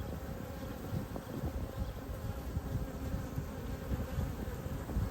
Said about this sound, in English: So there's a bee hatching right now.